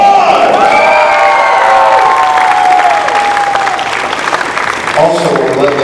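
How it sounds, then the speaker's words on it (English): A loud audience at a high school grad-night hypnotist show claps, cheers and whoops for the parents who helped, a dense roar with shouted voices riding over it before a brief dip. "give every parent in the room and elsewhere that helped out a big round of applause"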